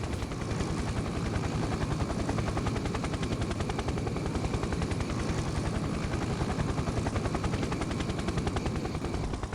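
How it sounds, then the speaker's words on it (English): Helicopter-mounted flamethrower from the Factorio video game, a loud, steady rapid rattling drone like rotor chop mixed with continuous gunfire, unbroken for nearly ten seconds with no talking. "I'm starting to like this helicopter flamethrower."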